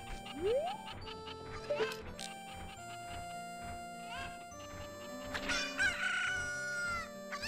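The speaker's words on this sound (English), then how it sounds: "But I have to be careful with this chicken." Chickens in The Legend of Zelda: Ocarina of Time crow and cluck in quick succession, a rising rooster crow opening over a busy game soundtrack with chimes and repeated clucks throughout.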